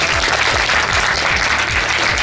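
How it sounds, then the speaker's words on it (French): Thunderous applause greets a director at a Miraculous Ladybug live premiere event, dense clapping filling the room steadily and loudly without a break. "Et Cyril Adam, tonnerre d'applaudissements"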